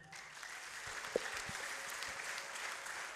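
A church audience claps together at a sermon, producing a steady, fairly distant wash of applause that runs evenly throughout with no speech over it.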